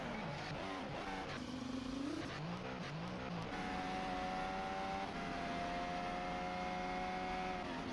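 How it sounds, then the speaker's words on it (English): Ferrari Formula 1 car heard onboard during qualifying at the United States Grand Prix, the engine note rising and dipping with throttle changes before settling into a steady high whine, continuous and without speech. "you can see the car just get too early in the throttle corrects it and then just can't slow the car down"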